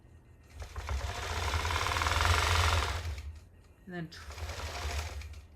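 Longarm quilting machine stitching in the ditch, a loud, rapid mechanical chatter that swells, pauses briefly, then resumes, with a voice speaking over it.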